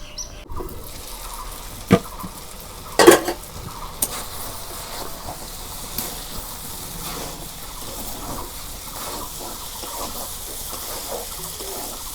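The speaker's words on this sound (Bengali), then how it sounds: "চালটা আমি ভালো করে ভাজা নিলাম" Rice frying in a pan for white biryani gives a steady, soft sizzle throughout, with a few sharp clinks and scrapes near the start and no talking.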